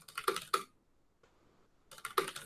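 Quick bursts of typing on a computer keyboard in the Vim editor, two clusters of rapid close key clicks separated by a quiet pause, with no talk.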